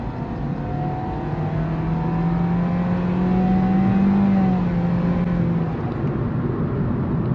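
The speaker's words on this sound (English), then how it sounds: "Let's do a rolling start from 40 or 35 instead." MG3 1.5L petrol hatchback with a CVT gearbox accelerating from a rolling start around 35–40 km/h, heard from inside the cabin: a steady, droning engine hum that rises gradually and holds a flat, even pitch throughout.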